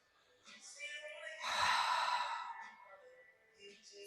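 Deep, audible breathing during a yoga sun salutation flow: a soft inhale swells into a loud, drawn-out exhale around the middle, with quieter breaths at the start and end.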